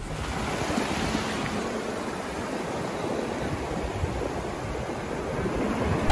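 Wind buffeting across an open beach, a continuous broadband rush with surf blending underneath, loud and steady throughout without speech.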